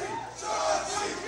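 A crowd at a live concert boos together in a sustained, loud roar of voices that swells briefly in the middle.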